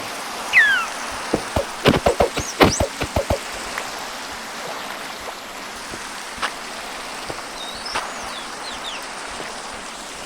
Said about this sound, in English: let's just hope that this rain gonna stop soon